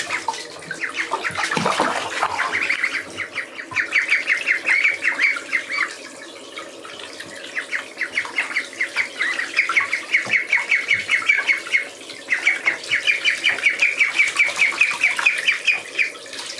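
Small chicks chirp in a continuous, high, bright stream of peeps, close by and loud, with a brief rustle near the start and no talking.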